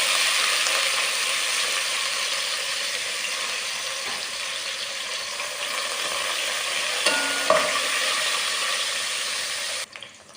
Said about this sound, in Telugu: ఇవన్నీ నూనెలో వేగుతున్నాయి కదా